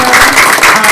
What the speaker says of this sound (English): Let's give it up a round of applause